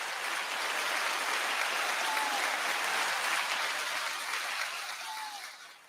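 Studio audience applause for comedian guest Rodney Perry on a business talk show, a dense steady wash of clapping that holds strong for about five seconds before tapering off, with no talking over it.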